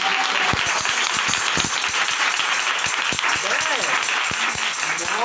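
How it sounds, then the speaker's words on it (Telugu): A congregation at a Friday prayer meeting claps loudly and continuously, a dense wash of applause with a preacher's voice carrying over it. "కొట్టు గట్టిగా చప్పట్లు."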